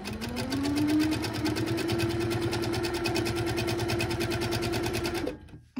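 A sewing machine free-motion quilts a fan design with a fast, even needle rattle and a steady motor hum, running loud and close for about five seconds before stopping abruptly.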